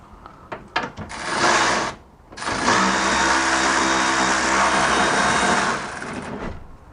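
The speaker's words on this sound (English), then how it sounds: "I think I can just use my ratchet to speed that out" An electric ratchet spins out a power steering banjo bolt on a BMW E46, with a few clicks, a short whirring burst, a pause, then a longer loud buzzing run before it stops.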